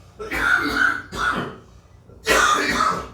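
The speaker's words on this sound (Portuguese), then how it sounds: "Mais uma tosse no fundo." Three bursts of coughing or throat clearing, fairly close and loud, separated by short pauses.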